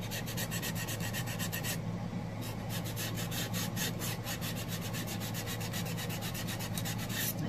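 Scrapbook paper edges being distressed with rapid, repeated close scraping strokes, a loud, continuous rhythmic rasp with a brief pause partway through, and no voices.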